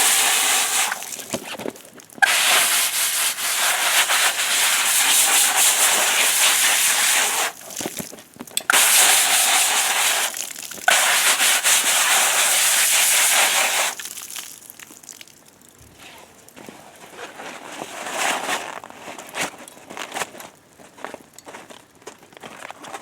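Water sprayed onto a nylon mesh compost extract bag, a steady close hiss of spray broken by short pauses, then fading into quieter drips and crinkling at the end.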